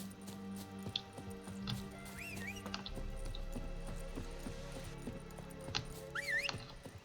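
Horse in The Witcher 3 game, quiet hoof clip-clops with short whinnies and chirpy squeals amid a soft game soundscape, faint throughout.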